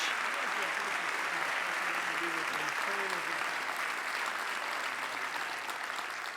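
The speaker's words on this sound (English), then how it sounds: "let's have one final round of applause" Audience applause after a peace forum at Notre Dame, a steady dense wash of clapping that holds loud and even throughout, with a faint voice briefly beneath it.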